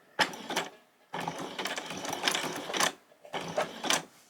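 A sewing machine stitches velcro onto a long-sleeved T-shirt in three close, steady whirring bursts separated by brief pauses, loud and near with no talking.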